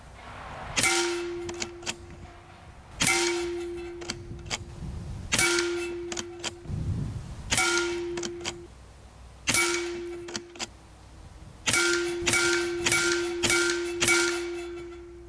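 A Skout Epoch PCP air rifle fires in quick succession at steel targets, each sharp crack followed by a ringing metallic clang, about nine shots over fifteen seconds, the last few in a rapid burst.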